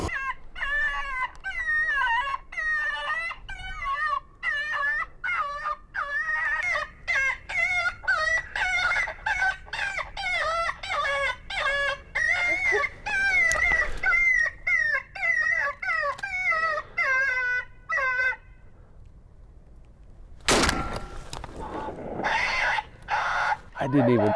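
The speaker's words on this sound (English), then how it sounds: "I'm gonna do a gray fox pup distress #1, play it for maybe 2 minutes" Gray fox pup distress call blares from an electronic predator caller during a New Mexico hunt, a loud, continuous run of wavering, squealing yelps repeated in rapid bursts for about twenty seconds, then a brief louder burst of noise at the end.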